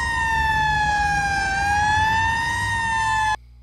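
An old-school ambulance siren from The Godfather (1972) wails loudly and alone, its two-tone pitch gliding slowly down and back up before cutting off abruptly.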